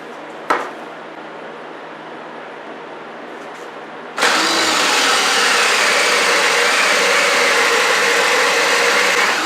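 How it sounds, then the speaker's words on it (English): A Forstner bit clears out the wood of a live edge coffee table, starting after a quiet pause with an abrupt, loud, continuous whirring drone that holds for the rest of the clip. "so I'm just going to take the Forstner bit and clear out the"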